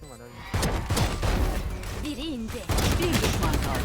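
Rapid Vandal rifle fire in a Valorant match, loud bursts of shots close up, with a player's voice talking over the gunfire.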